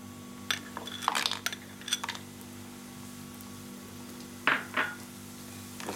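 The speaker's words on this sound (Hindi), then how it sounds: "गर्म हो चुकी है तो मैं बड़ी इसमें डाल रही हूँ" Badi, sun-dried lentil dumplings, drop into hot oil in a pan for an Odia-style dish, giving bursts of crackling, spitting sizzle and light clinks that come in scattered clusters over a low steady hum.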